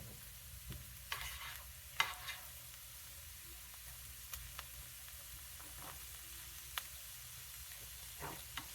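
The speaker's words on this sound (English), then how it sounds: "What we're doing right now is it's called sweating the onions out" Onions sweat in a pan on the stove, a quiet steady sizzle with occasional sharp clicks and taps from stirring scattered through, with no voices.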